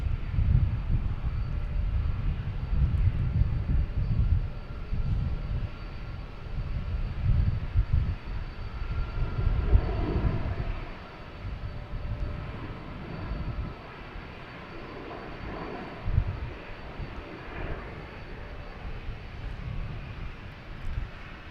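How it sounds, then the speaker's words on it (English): Alaska Airlines Boeing 737 MAX 9 comes in to land at Boston Logan, a loud rumbling jet roar that swells and surges, then eases to a lower, fainter drone. "we have Alaskan Airlines coming in from San Francisco. 737 MAX 9."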